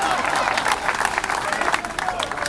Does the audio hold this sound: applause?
yes